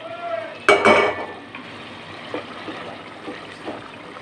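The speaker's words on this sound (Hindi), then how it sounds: "अब इसमें डालेंगे नाजरीन लौकी, जिसको हमने पहले बॉयल किया, फिर इसको हमने मैश किया।" Boiled, mashed bottle gourd drops into spices cooking in a pan with a brief wet splat and a short sizzle, followed by faint stirring scrapes.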